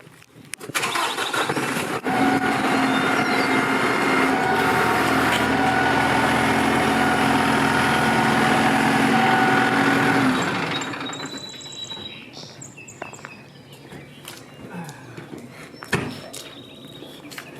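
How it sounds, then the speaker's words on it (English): A tractor engine cranks and catches with a loud roar, runs steadily for several seconds, then drops to a quieter idle with faint clicks. "At this point, we're ready to safely start the tractor."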